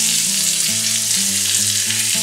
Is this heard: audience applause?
no